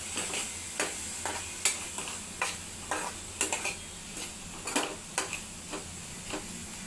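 Spices with turmeric powder are stirred in a pan for alu puri, producing a soft background sizzle broken by regular scraping strokes and clicks of the spoon against the pan, roughly two per second.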